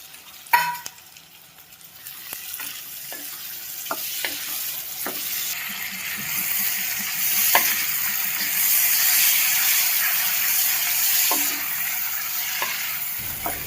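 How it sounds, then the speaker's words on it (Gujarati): Onion and tomato gravy for a val bean curry fries in a pan, a steady loud sizzle broken by scraping and clinking spoon strokes as it is stirred, with no talking. "હવે આપણે આમાં ટમેટા નાખી દઈએ અને ટમેટાને પકાવી દઈએ પાંચ મિનિટ સુધી"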